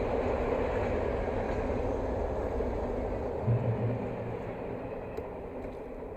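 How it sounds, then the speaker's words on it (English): A continuous low rumbling roar of a train rolling past in the video game Alan Wake Remastered, steady and fairly loud with a faint clunk partway through. "Oh, it was a train."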